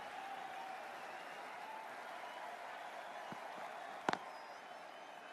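Steady crowd applause from a cricket video game, Cricket 24, in an India versus Pakistan match, a constant wash of clapping with a couple of sharp brief clicks near the end.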